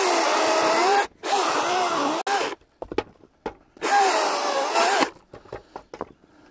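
Battery-powered DeWALT FLEXVOLT chainsaw cutting through wood in two loud, sustained bursts of about a second each, with quieter gaps and clatter between the cuts.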